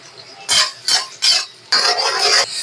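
A utensil scrapes and stirs garlic in a pan, in four distinct strokes: three short ones evenly spaced, then a longer sweep. The sound is close and clear, with no voices.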